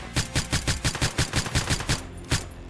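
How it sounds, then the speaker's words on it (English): Rapid video game gunfire, a fast automatic burst of about a dozen evenly spaced loud shots, then a brief pause and one last shot. "am I getting shot at?"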